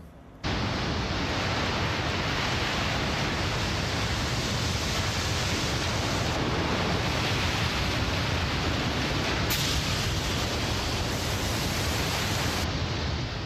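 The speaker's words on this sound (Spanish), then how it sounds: "Enormes olas asesinas de una fuerza inimaginable." Huge ocean waves of a tsunami, a dense, constant broadband roar of churning water, loud and unbroken throughout with no distinct individual breakers.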